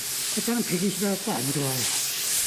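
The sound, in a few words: sanding a loess clay bed board with sandpaper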